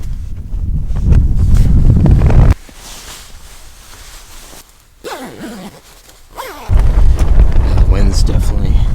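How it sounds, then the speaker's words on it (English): Strong gusting wind buffets the microphone while winter camping on a Lake District mountain, roaring loudly in long surges with calmer, quieter stretches between them. "The wind's definitely picked up."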